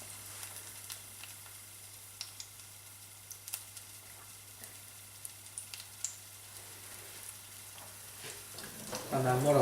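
Olive oil heats in a pan before courgettes go in, giving a quiet, steady sizzle with scattered small pops and crackles, a low hum underneath, and a louder burst near the end.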